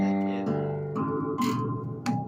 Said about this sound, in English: Like you can't even hear me over the bass. So there we go. 5-string bass.